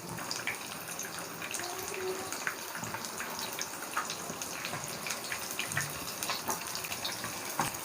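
Small cheese fritter balls fry in hot oil, giving a constant faint crackling sizzle with scattered pops, close but quiet, with no speech.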